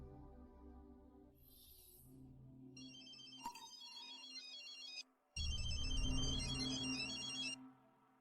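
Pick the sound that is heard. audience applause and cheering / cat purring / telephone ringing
telephone ringing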